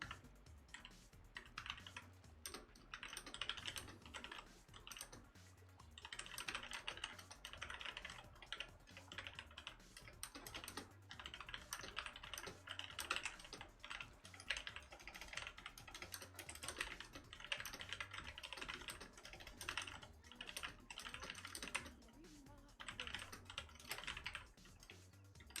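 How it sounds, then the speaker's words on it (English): Someone types steadily on a computer keyboard during a gaming livestream. Dense, rapid key clicks continue for about twenty-five seconds with brief pauses, close to the microphone and with no talk. "I'm typing something to one of my mods."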